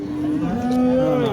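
A single cow gives a long, loud, close moo at a busy livestock market in Izboskan, Andijan, its drawn-out call rising slightly and holding steady for over a second.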